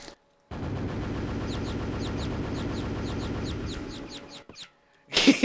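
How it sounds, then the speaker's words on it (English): A super nail gun in a Quake-style first-person shooter fires rapid, evenly spaced bursts of metallic shots in a sustained loud run of roughly four seconds, then cuts off, followed by a brief sharp burst at the end. "you'll notice that the super nail gun fires two nails"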